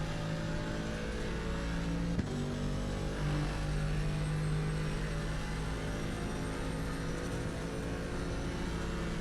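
A GT4 race car in the Assetto Corsa Competizione racing game accelerates hard down a straight, its engine droning with steady harmonic tones that shift gear once, loud and continuous with a faint second car nearby.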